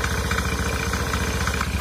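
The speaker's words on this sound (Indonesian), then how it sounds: "Ketika mesin dihidupkan, ini bunyinya sudah berisik banget ya teman-teman." An automatic scooter engine running noisily at idle, loud and close, with a steady rapid rhythmic chugging and a rough mechanical rattle throughout.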